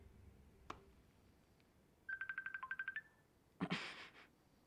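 A phone goes off during a podcast recording: a rapid series of about ten electronic ringtone pulses, then a brief louder burst, faint and otherwise quiet with no talk.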